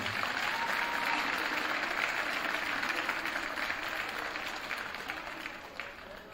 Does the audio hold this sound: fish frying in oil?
no